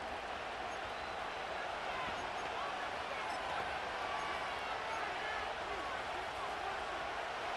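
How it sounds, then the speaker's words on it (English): Stadium crowd roar from Madden NFL 25 American football, a steady, dense wash of cheering noise that holds at even loudness throughout without distinct claps or breaks. "The crowd cranking it up another notch before 3rd and long."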